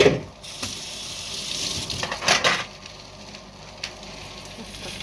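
Minced meat sizzles and crackles in a hot pan, with a few louder bursts of spatter and scraping as it is stirred, close up.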